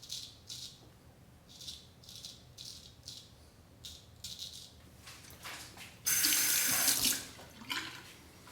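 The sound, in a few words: rinsing straight razor under running sink tap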